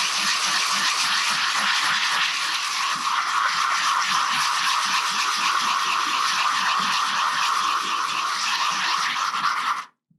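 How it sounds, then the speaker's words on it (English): Dry sanding on a marble-effect concrete surface produces a steady, loud, continuous abrasive whir and scratch that runs unbroken for about ten seconds before cutting off abruptly. "Sanding concrete dry creates airborne contaminants."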